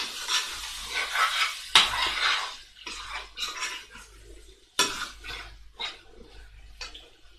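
Chilli being stirred in a cooking pot, a spoon scraping and knocking against the sides in separate close strokes with short clacks, over a faint sizzle, with no talking.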